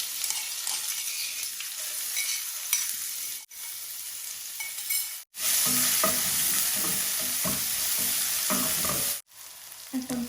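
Ginger and garlic fry in oil with bay leaf, cinnamon, cloves and cardamom, loud crackling sizzle with stirring scrapes, broken by a few abrupt brief cutoffs, no talk.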